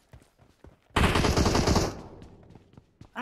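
Loud burst of automatic gunfire in the mobile battle royale game PUBG Mobile, a sustained rattle of about one second that fades into quieter scattered shots.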